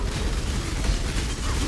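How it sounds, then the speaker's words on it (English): A rumbling, noisy blast from the Path of Exile Delirium campaign, a dense low-heavy burst that fills the whole short moment at steady loudness with no talk over it. "You gotta watch out for those explosions."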